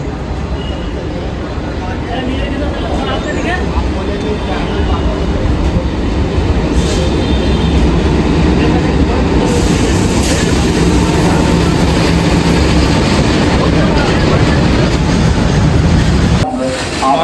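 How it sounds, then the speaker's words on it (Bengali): Maa Tara Express train pulling in at platform two of a railway station, a loud, steady rumble and rattle of rolling wagons that continues close by for the whole stretch and stops abruptly near the end. "ফাইনালি অনেক অনেক ওয়েটের পর আমাদের ট্রেন চলে আসছে মা তারা এক্সপ্রেস"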